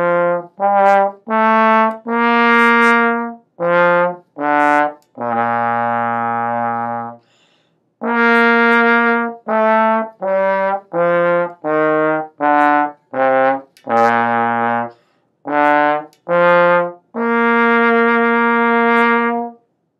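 Solo trombone playing an audition exercise, a scale going up and down followed by an arpeggio, with a run of short detached notes broken by longer held tones and a brief pause midway, clear and close.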